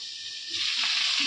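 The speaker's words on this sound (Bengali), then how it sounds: "আর এখানে আমি আলুটা ততক্ষণে ভাজছি" Potatoes for a Bengali mutton curry frying in a pan, a steady broad sizzle that swells slightly louder partway through, close and continuous with no talk.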